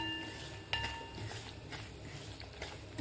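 Semolina (rava) roasting in ghee in a pan on very low heat, with steady soft scraping and stirring plus occasional light clinks of a spoon against the pan, close and continuous with no voices.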